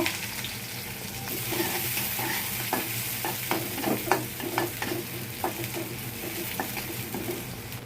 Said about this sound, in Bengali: পেঁয়াজটা লাল লাল করে ভেজে